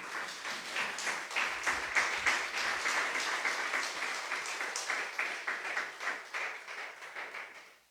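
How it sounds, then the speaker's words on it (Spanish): A church congregation applauds during a Spanish-language worship service, dense continuous clapping that holds steady for several seconds before fading at the end. "Dele otro aplauso al Señor."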